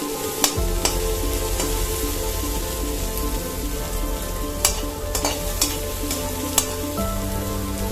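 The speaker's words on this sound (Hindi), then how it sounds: "देखिए, प्याज पक रहा मेरा, प्याज थोड़ा पक जाए हल्का ब्राउन" Onions frying in a pan for a palak, soya chunk and pea curry, a continuous close sizzle with occasional sharp spatters and stirring scrapes.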